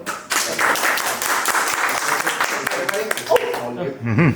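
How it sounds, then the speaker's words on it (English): Audience applause after a tech talk about AI and standup meetings, a dense burst of clapping lasting about four seconds, with voices and some talk mixed in near the end. "Let's give a round of applause for him."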